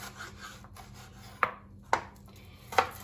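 A knife chops through an onion on a board: three sharp, separate cuts, close by, over a faint background hum.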